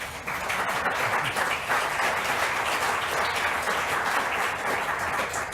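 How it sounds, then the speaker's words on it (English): Applause from an audience at a funding competition briefing: a steady, even round of clapping that holds at full strength throughout, fairly close and filling the room. "Round of applause."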